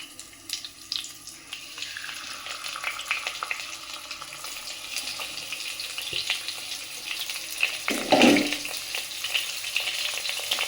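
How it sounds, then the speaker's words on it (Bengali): Fish frying in oil in a hot wok gives a fairly quiet, crackling sizzle with small pops, swelling into a brief louder burst near the end, with no voices. "মাছগুলো ভাজা হোক কতক্ষণ"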